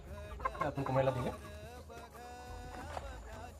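Free-range village chickens clucking nearby, with a rooster among them; a burst of layered clucks early on, then quieter scattered calls and a brief cluck near the end.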